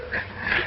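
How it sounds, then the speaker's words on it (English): Dog whimpering in an old film scene, a brief, faint, high whining cry lasting under a second against background hiss. "Are you sure this is the dog we want?"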